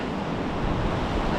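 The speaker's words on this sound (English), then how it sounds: "the waves are down, the wind is down" Ocean surf at a low-tide beach at Elliston, South Australia, a steady broad wash of waves with wind noise on the microphone, fairly loud and continuous, no voices.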